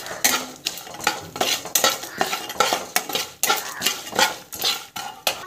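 Chilies, chili powder and chana dal sautéed in a pan, with rhythmic, fairly loud scraping and clinking of a metal spoon against the pan in repeated strokes and a faint sizzle beneath.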